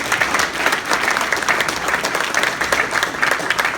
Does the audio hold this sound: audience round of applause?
yes